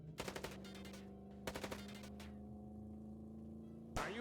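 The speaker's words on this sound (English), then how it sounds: "Right, gotta shoot the tires." Gunfire aimed at car tires in the Chicken Police game comes in short rapid bursts of sharp shots, one early, another about a second later, and a final burst at the end, over a steady engine hum.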